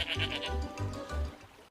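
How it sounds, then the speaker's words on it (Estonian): Goat bleating on a farm, several short repeated bleats in a steady rhythm, fairly close and moderately loud, with no talking. "Kitsed on üliaktiivsed loomad."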